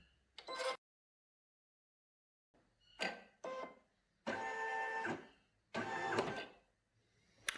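An embroidery machine sews finishing seams on a fabric cow comforter toy in loud mechanical bursts, the stitching runs separated by silent pauses and short whirring starts, with no voices.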